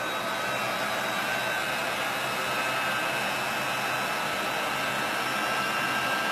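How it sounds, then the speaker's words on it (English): A heat gun blowing hot air while setting a craft on a wine bottle wind chime, a loud, steady, unbroken hiss and whir held close throughout, with no voices. "I'm just going to use a heat gun to set this"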